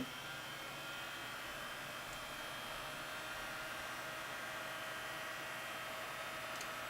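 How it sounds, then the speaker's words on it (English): A small heater blows steadily close by to warm and dry freshly applied Jamberry nail wraps, an even, unbroken whooshing hum lasting the whole stretch with no talking. "Maybe I'll turn on my heater, heat them up a little bit."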